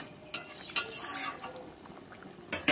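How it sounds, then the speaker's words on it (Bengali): Fried lote fish pieces go into a simmering curry: a soft bubbling bed broken by a few sharp clinks and clatters of utensils against the pot, close and moderately quiet. "এবার আমি দেখো ভেজে রাখা মাছগুলো দিয়ে দেবো।"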